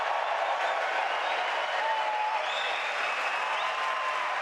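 A hyped-up crowd at a 2016 presidential debate keeps up steady, dense applause, loud and continuous throughout, like a wash of clapping from a large hall with no talk over it.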